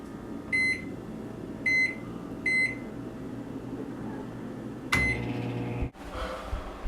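Microwave oven heating six pizza rolls on a microwave-safe plate: three short keypad beeps, then a louder start beep and the steady low hum of the running oven, which shifts abruptly near the end.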